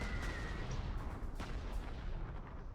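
Dive bombing attack in the Panzer Corps 2 war game, a dense continuous roar of bombing and artillery-like blasts, loud and sustained with a sharp crack midway, no talk.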